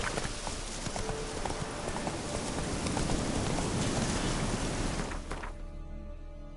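Roach the horse's hooves clip-clop at a steady gait in The Witcher 3, thudding over a broad ambient wash before the sound cuts away near the end.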